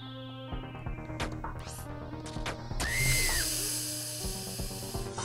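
A whirring saw trap in the platformer They Bleed Pixels buzzes and grinds in short bursts over steady background game music, swelling louder midway before settling.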